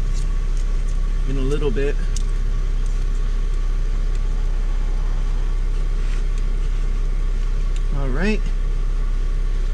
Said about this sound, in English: It is pretty cold out today, so I have the car on